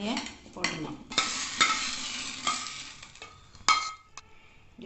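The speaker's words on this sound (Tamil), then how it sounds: "நெய் கொஞ்சம் விட்டு முந்திரியை கிள்ளி வச்சுருக்கேன். ஒரு 4-5 திராட்சை போட்டிருக்கேன். அதை பொன்னிறமாக வறுத்துக்கணும்." Broken cashews and a few raisins fry in ghee for oats kesari, producing a light sizzle under repeated spatula scrapes and occasional metallic clinks against the pan, close and fairly loud.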